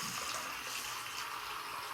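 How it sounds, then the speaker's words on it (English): Water spraying hard from a tap onto fidget toys being washed in a sink, a steady hissing gush close by with no talk. "Water is spraying everywhere."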